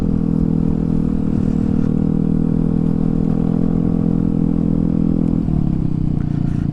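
A Yamaha Fazzio scooter fitted with forged NMax wheels rides along, its exhaust giving a steady, loud, bassy engine drone throughout, with a slight pitch drop near the end.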